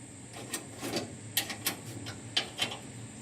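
Wrench clicks and metal taps while a bolt on the glovebox door of a 1966 Ford F100 pickup is tightened, a few sharp close ticks spaced irregularly over a quiet background.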